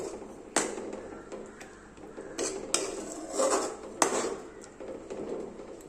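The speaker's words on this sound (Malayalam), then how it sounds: "ഇനി ഇത് നമുക്ക് നന്നായിട്ടൊന്ന് മിക്സ് ചെയ്ത് കൊടുക്കാം" A spoon stirs crushed papadam into a drumstick-leaf curry in a pot, producing scattered metallic clinks and scrapes against the vessel with soft stirring rustle between them, close and moderately quiet, no talk.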